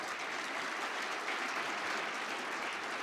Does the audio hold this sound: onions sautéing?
no